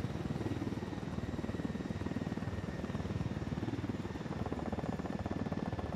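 A video game helicopter flies with a continuous rapid rotor thump and engine whine, steady and loud with no talking.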